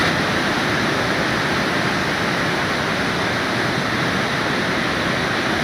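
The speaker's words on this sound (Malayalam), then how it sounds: "അടിപൊളി വാട്ടർഫോൾ സൂപ്പർ നല്ല പോസിലാണ് വരുന്നത്" Heavy, steady roar of a waterfall in monsoon rain in Wayanad, a dense unbroken wash of falling water that stays loud and constant throughout, with no voices.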